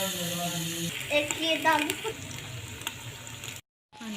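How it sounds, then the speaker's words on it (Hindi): Masala with turmeric and coarsely crushed chili frying in a pan for chicken haleem, sizzling under scattered stirring clinks, with a voice heard briefly before a short dropout near the end. "देखिए मसाला भून रहा है"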